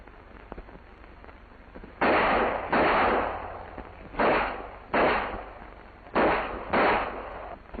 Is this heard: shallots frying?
no